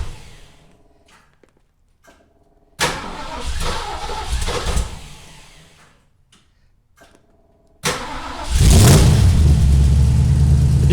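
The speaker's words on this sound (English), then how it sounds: "Sure, you can step on the gas and it makes a lot of loud noises." A 1968 Ford Mustang 289 V8 with a seized distributor revs in two sharp bursts, each a loud throttle blip that decays back to a lumpy idle with ticking between.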